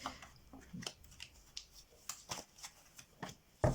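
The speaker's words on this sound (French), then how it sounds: "je vais prendre 3 cartes pour une conclusion en fait" Tarot cards are drawn from a deck, producing soft, close, intermittent papery slides and flicks at irregular intervals, faint and quiet with no speech over them.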